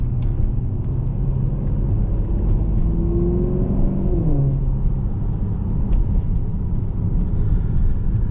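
A 2015 Maserati GranTurismo Sport engine rumbles loud and deep, steady with a rising, revving whine partway through, close and continuous throughout.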